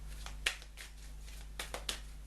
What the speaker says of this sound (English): while I'm shuffling here